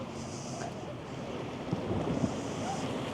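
Big waves crash and wash against the shore in a continuous, roaring surf, with a steady hiss of wind noise buffeting the microphone.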